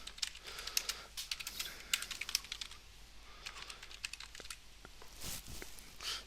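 Quick bursts of typing on a computer keyboard, close and clear, with uneven clusters of key clicks and a longer flurry near the end, no voices.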